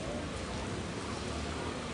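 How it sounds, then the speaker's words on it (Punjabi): Heavy rain pouring steadily in Nawanshahr, Punjab, a dense even hiss of falling water with no breaks. "ਮੀਂਹ ਵਾਧੂ ਆ"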